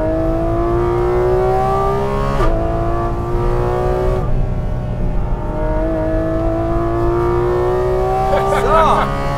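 Porsche Cayman GT4 RS with Manthey racing kit driving hard on a race track, its engine droning loud and steady with rising revs, brief gear-change breaks, and a faint squeal near the end.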